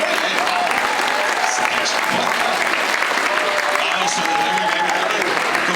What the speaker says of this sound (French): on applaudit Jean, applaudit tout le monde